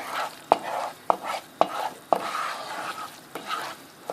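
Flour halva being stirred in a pan, a utensil scraping through the toasting flour in a regular rhythm with sharp knocks against the pan roughly every half second, up close over a soft sizzle.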